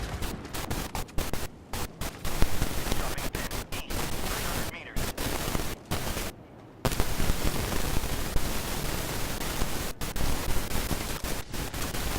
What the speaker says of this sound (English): Let me try this grenade launcher.